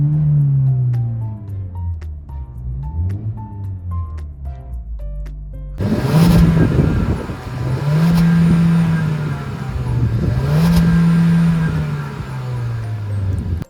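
A 2022 Suzuki Swift Sport engine revs repeatedly, rising and falling in pitch with each throttle blip; the first part sounds muffled, the later revs louder and rawer.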